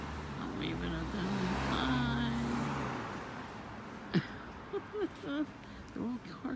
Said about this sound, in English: They're all cars, taxi cab, you know, car service.